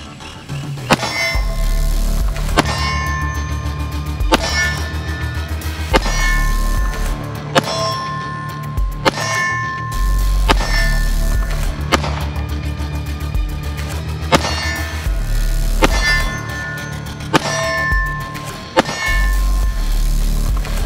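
Shots from an M&P Shield Plus 9mm pistol ring off steel targets, a series of sharp, loud cracks at a fairly regular pace, each followed by a bright metallic clang, continuing throughout without talk.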